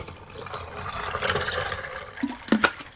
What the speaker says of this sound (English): I got some water here, just some core water. And I'm going to pour that in.